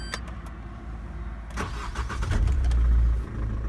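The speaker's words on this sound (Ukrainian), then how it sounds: "Спробуємо зараз завести машинюху" A 2010 Opel Meriva's engine cranks with a few quick clicks, then catches and swells into a low, steady rumble before easing slightly.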